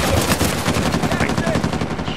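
Rapid gunfire from Uncharted 4 multiplayer crackles in fast bursts, near and loud, almost like a machine gun, with game effects around it.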